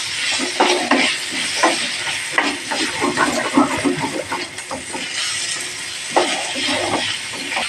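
Capsicum and onion frying in a pan for gobi manchurian, giving a steady, loud sizzle close up, with repeated scraping and clinking of a spatula stirring throughout.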